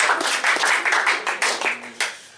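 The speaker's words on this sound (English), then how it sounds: "A round of applause to you guys." A small group claps, a quick, uneven patter of hand claps close by that thins out toward the end.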